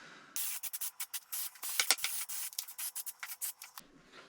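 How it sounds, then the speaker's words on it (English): Spray adhesive being sprayed onto SuperQUILT insulation in a VW Caddy Maxi van build, heard as a close run of short, rapid hissing bursts with brief gaps between them. "I'm just going to spray through it, get it glued down"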